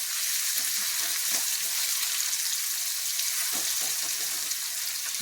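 Green chilies fry with tomato and onion for a potato bhaji, giving a dense, constant sizzle with faint stirring clicks underneath.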